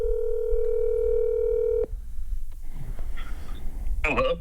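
A steady phone dial tone holds for almost two seconds and cuts off abruptly, followed by quiet line noise, faint clicks and a short ringing or voice-like burst at the end.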